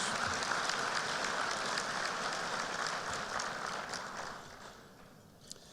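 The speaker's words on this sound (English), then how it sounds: "Let's give a round of applause for all of the sponsors for making this event successful for 25 years." A dense round of applause from a large audience at a business forecast luncheon, steady and crowded before slowly thinning out toward the end.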